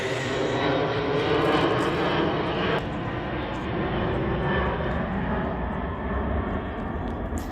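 A steady, loud roar of an aircraft passing overhead fills the whole stretch at an ADU construction site, with no clear rise or fall.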